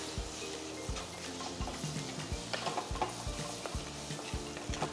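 Tomatoes sauté in a pan for drumstick kuzhambu (murungaikkai poricha kulambu), a steady sizzle broken by regular scraping stir strokes of a spoon against the pan, fairly close and at moderate level.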